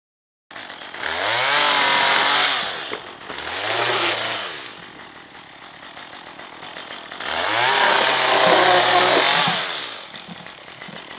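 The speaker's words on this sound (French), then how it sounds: "l'utilisation d'une tronçonneuse, c'est sacrément plus rapide, c'est très efficace" A chainsaw cutting out a huge Asian hornet nest roars nearby, revving up and down in two long bursts with a quieter idling stretch between them.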